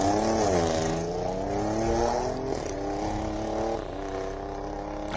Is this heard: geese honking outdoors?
no